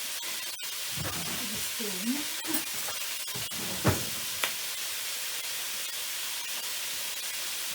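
Mince fries in a pan with a continuous soft hiss and sizzle, broken by a few clicks and knocks of utensils against the pan.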